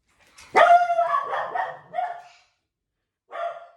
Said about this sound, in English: Can you stop barking, please?